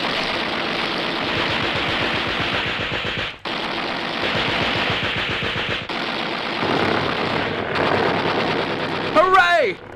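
Rapid machine-gun fire from a fighter aircraft in a radio drama, loud, continuous bursts with brief breaks, an engine underneath and dialogue over it.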